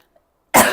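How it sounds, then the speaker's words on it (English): A woman coughs once, a sudden harsh and fairly loud burst after near silence, during an at-home beginner pole fitness class. "Sorry, this cough."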